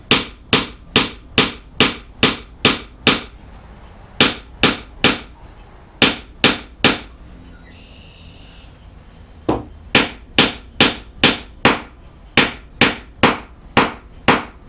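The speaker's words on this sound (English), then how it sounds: "hold the peg just like before and drive it with a hammer and listen to the sound" Hammer driving a wooden peg into a chair seat during seat installation: sharp, loud, evenly spaced strikes in quick bursts of six to eight blows, with a short pause in the middle, close up with no talking.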